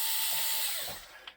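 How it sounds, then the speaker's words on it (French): Power drill backing out a large screw, a steady high-pitched whine that tapers off and winds down within a second and a half, ending with a small click, close and fairly quiet. "Donc on tire les 4 grosses vis."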